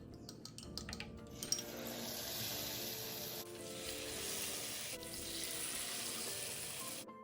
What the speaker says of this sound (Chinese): 转中火，再继续油炸至全部完成。